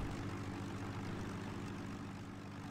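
Propeller aircraft droning overhead in the WWII strategy game Sudden Strike 4 during the Battle of Ypres, a steady broad engine rumble, fairly faint and continuous throughout.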